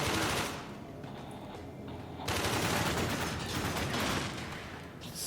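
Rapid pistol fire in the sci-fi shooter game Warframe, dense bursts of repeated shots that pause briefly and then resume, loud and close with no talk over them.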